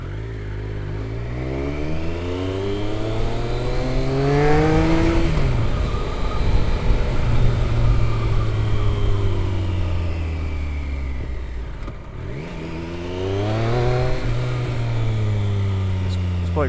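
A Triumph Daytona 955i motorcycle accelerates hard through the gears, its engine rising in pitch with each pull, dropping briefly at every shift, and then climbing again after a pause; the roar is loud and close.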